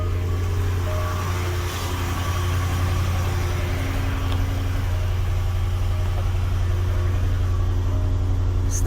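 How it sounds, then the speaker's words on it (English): The air suspension pump of a 2010 Range Rover with a suspension fault runs in a continuous, close, steady hum with a low droning tone and no voices. "I hear the pump is working."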